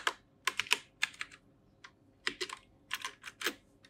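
Computer keyboard typing in quick irregular bursts of keystrokes with short pauses between them, close and clear with no voices.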